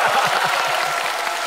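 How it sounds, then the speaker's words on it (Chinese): An audience at a comedy roast show claps steadily. The applause is moderately soft and evenly textured and continues without a break. "此处有掌声。"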